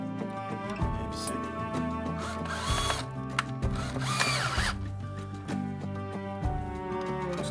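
A power drill drives screws into the mounting hardware of a window blind during installation, short bursts of whirring spaced across several seconds, close and fairly loud with some clatter between runs.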